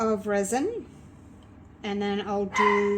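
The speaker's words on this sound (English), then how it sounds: "oops, excuse the dogs" Dogs barking and yelping nearby in short bursts, with someone speaking over and between the barks.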